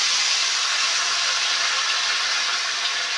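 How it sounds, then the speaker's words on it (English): Cold white wine hits a hot pan holding seared round steak bits, giving a loud, steady broadband hiss that continues evenly without breaks, close and alone with no voices. "I'm just going to use a little bit of this white wine because we're going to deglaze all this to pull all those bits out"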